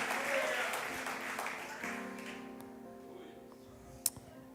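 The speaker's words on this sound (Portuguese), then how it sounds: "Você pode aplaudir a Jesus?" Church congregation at a Portuguese-language service applauding, a moderate wash of clapping that fades out under sustained musical tones, ending with one sharp isolated clap.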